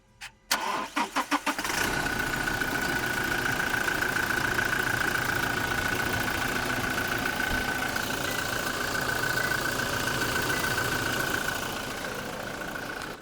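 A Toyota Fortuner SUV engine cranks briefly, catches and settles into a steady, loud idle with a constant mid-pitched drone, heard up close with no talking.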